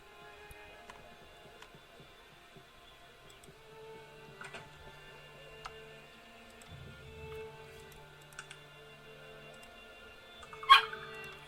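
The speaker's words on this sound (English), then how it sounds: "Quiet, puppy." A dog companion in the role-playing game Arcanum whimpers faintly, with soft, drawn-out whines over a quiet background of scattered game effects, and a sharper click near the end.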